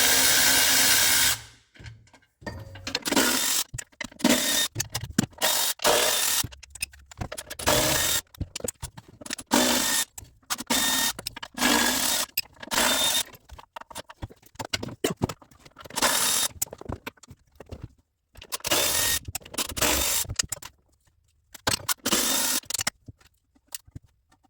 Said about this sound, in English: All I'm doing is taking all the little screws off that hold the cover for the belt cover or the clutch cover.